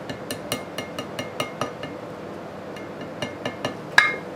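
A hammer taps a metal part into place on a seized antique Briggs & Stratton engine in a steady series of light, sharp knocks, pausing once before a few more taps and a final harder ringing hit.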